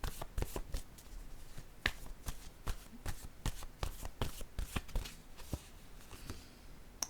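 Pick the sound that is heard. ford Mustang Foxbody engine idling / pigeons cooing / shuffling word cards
shuffling word cards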